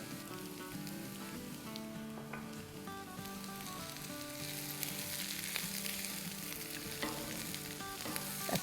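Seasoned potatoes with salt, black pepper and crushed chili flakes sizzle steadily in a pan while being stirred, a constant close frying hiss with scraping from the spoon.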